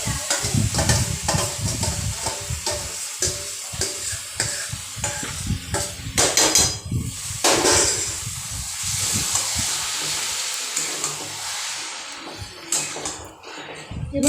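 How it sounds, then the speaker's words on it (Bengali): Marinated chicken fries and is stirred in a wok over a high gas flame for Bangladeshi-style chicken korma, a loud continuous sizzle and hiss broken by scraping, clattering stirring strokes, with brief murmurs of talk. "এবার গ্যাসের ফ্লেমটা কিন্তু হাইতে রাখতে হবে বন্ধুরা, আর ভালোভাবে নাড়াচাড়া করতে হবে"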